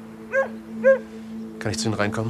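A dog gives two short, whining yelps indoors, then a man asks a question in German while a low hum runs underneath.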